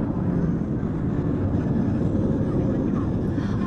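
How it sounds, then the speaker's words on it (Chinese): Air force aerobatic team jets performing a formation display at an air show, a loud, steady roar of engines filling the whole stretch, broad and continuous with no break. "六架飞机将会给我们在本场做编队的一个飞行表演"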